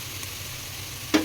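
Ginger paste, mixed with ground coriander, chilli and cumin pastes, cooks in oil with a constant faint hiss and one sharp spatula scrape near the end.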